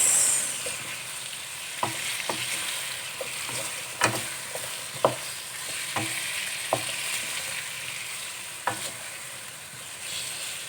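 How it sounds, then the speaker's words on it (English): A spoon stirs potatoes and carrots frying in a pot of chicken curry, scraping in irregular knocks over a constant loud sizzle, close up with no voices. "Give it a good mix."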